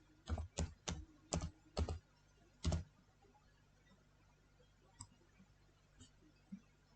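A computer keyboard clicks in a quick run of about six close, distinct keystrokes while an Excel formula is typed, followed by a few faint, sparse taps in a quiet room.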